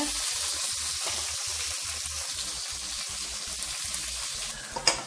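Onion, tomato and chilli stirred in a pan for chicken kothu parotta, a quiet steady sizzle with soft rhythmic stirring strokes and a sharper clink of utensil near the end.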